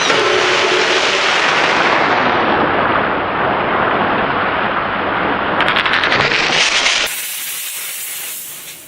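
A homemade gun fires molten pewter at a watermelon in the backyard, giving a loud, close, continuous roaring hiss that tapers slightly over several seconds, then gives way to a rapid sputtering burst before dropping off abruptly.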